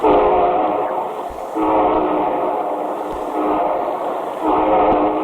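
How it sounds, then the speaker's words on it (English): A train rumbles steadily close by, wheels churning in a continuous, loud roar with rhythmic surges every second or so. "And here comes our star-studded show train."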